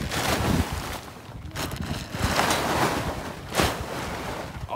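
A tarp flaps and rustles in gusty wind as it is pulled off a turbo project car, giving a steady broadband rush with louder bursts of fabric snapping, close to the microphone.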